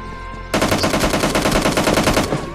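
MP5 submachine gun in PUBG Lite firing a sustained full-auto burst, loud and close, starting abruptly after a short quiet moment and running rapidly to the end.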